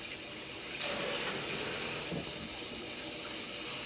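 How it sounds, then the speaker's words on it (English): Hands being washed under a running tap at a galley sink, a steady close rush of water that shifts slightly as hands move through the stream. "I'm washing my hands right about now."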